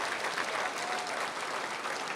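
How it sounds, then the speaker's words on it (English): An audience at a public safety award ceremony claps in dense, sustained applause, a steady wash of many hands with no voices over it. "How about a round of applause for Ms. Jennifer Franciotti?"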